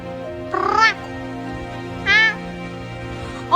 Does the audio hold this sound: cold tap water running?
no